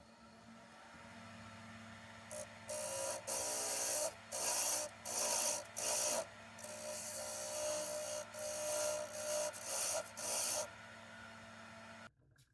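A lathe turns a wooden plug for a salt shaker while a tool shapes its outer form, a steady motor hum under repeated bursts of harsh scraping and rasping that start and stop in an irregular rhythm.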